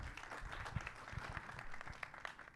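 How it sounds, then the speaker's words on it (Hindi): Audience clapping for an actress at a Bollywood film trailer launch event, a loose, uneven patter of hands with a few sharper close claps, fairly faint, with some murmur and voice sounds underneath. "शबाना जी के लिए एक बार जोरदार ताली होनी चाहिए"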